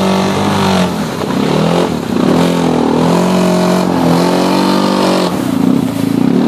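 A car engine revs loudly and close, its pitch rising and falling as the throttle is pressed and eased, with brief dips where the gas is let off.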